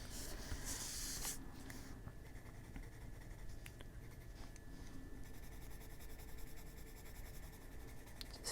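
An orange colored pencil scratches across a pumpkin coloring page, a soft continuous scribbling close to the microphone with a denser burst of strokes at the start and no talking.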